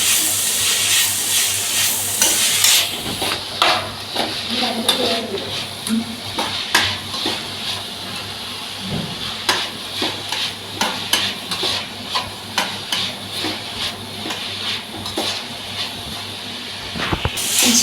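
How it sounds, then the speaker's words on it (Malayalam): Chicken curry with shallots being stirred in a pan, with scraping and soft sizzling that repeats in uneven strokes, close and fairly loud, without any talk. "എല്ലാം കൂടെ ഒന്ന് ചേർത്ത് മിക്സ് ചെയ്യാം."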